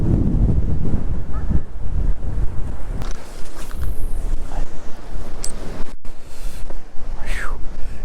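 A strong, cold headwind buffets the microphone on a boat out on a lake while bass fishing, giving loud continuous rumbling gusts with faint water noise and a few brief scattered knocks.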